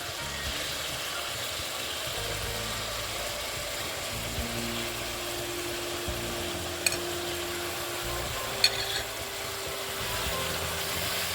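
Chicken pieces frying in a pan over a high flame for a quick chicken curry, a steady low sizzle and hum running the whole time, with two brief faint clinks partway through and no talking.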